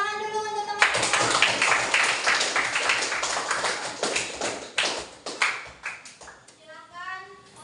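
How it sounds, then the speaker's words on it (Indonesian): Students clap for their classmates in a classroom, a burst of many quick, sharp hand claps at close range that thins into scattered claps, with a teacher's voice heard before and after. "Tepuk tangan dulu untuk teman-teman."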